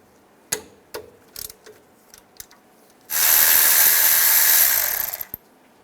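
A ratchet with a 13mm socket works loose the front brake caliper bolts on a 2007-2017 Ford Expedition: a few sharp, separate clicks, then a loud, steady, rushing burst lasting about two seconds that stops abruptly.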